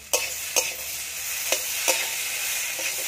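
Beans with chili powder and spices stir-fried in a pan, a soft steady sizzle broken by several sharp scraping stirs of a spatula, close up and without talk.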